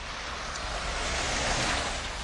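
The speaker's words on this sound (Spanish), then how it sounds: "Es un arroyo de verdad que fluye en esa dirección." An underground stream flows some 50 metres below Rome near the Colosseum, heard as a continuous, even rush of water filling a stone space, steady and fairly loud throughout with no voices.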